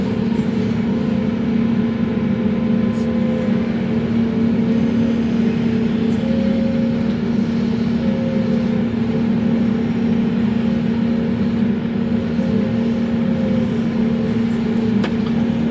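An excavator loads red clay into a dump truck at a pond-building site, its engine droning loud and steady with a constant low hum, heard up close without pause.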